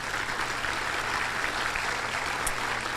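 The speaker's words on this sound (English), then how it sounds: "Please give them a round of applause." Audience applause at the Manatee Chamber of Commerce's Champions of Healthcare awards event, a steady dense wash of clapping that holds at an even level throughout without a voice over it.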